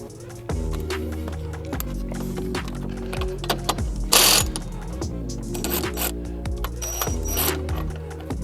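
Tools work at the alternator pulley of a Jeep, close up, with a run of clanks, metallic scrapes and ratcheting clicks, one sharp louder clatter midway and irregular knocks.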